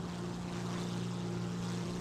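Steady droning roar of a Napier Sabre engine powering a Hawker Tempest V in War Thunder, a constant loud tonal hum with a dense broadband rush, unbroken and without talk.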